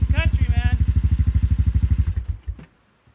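A motorcycle rides over an obstacle on an old, long-unridden trail. Its engine throbs in a loud, steady rapid pulse close up, then cuts out abruptly with a clunk as it goes quiet.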